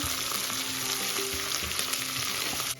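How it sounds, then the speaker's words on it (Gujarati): Coriander seeds sizzle in hot oil as a tempering for Gujarati surti undhiyu with cabbage, a loud, steady crackling fry with a faint clink of stirring, dropping off abruptly at the end. "થોડા ધાણા મૂકવાના વઘારમાં ને સતળાવી લેવાના છે ધાણાને"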